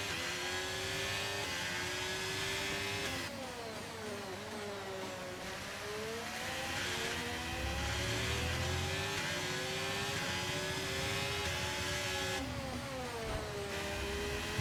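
Formula 1 car engine in the F1 23 racing game at the Spain Grand Prix, a high sustained whine rising and falling through gear shifts and corners, loud and continuous with no talk over it.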